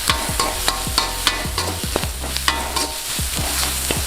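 A spatula stirs fish chukka masala in a frying pan, with a quick, regular run of close scraping strokes, about two each second, over a low steady sizzle.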